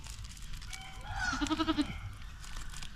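A young goat bleats in a short, wavering series of pulses, moderately close, over a low background hum.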